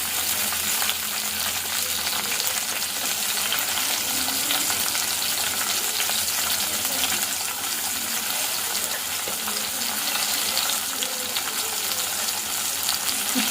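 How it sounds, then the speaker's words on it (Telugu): Onions frying in a tempering of oil with dried red chillies give off a loud, dense, continuous sizzle close up, steady throughout with no talking over it. "ఇప్పుడు ఆనియన్స్ కూడా వేసుకుంటున్నాను నేను"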